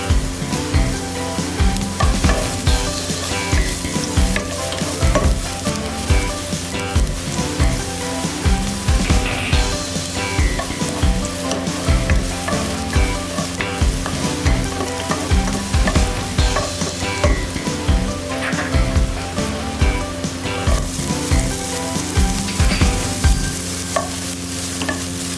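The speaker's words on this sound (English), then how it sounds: "Let's start by sautéing garlic, onion, and ginger until fragrant." Garlic, onion and ginger sautéing in hot oil in a pot for a Filipino clam and patola soup, a loud continuous sizzle with steady, regular scraping stirs throughout; no talking.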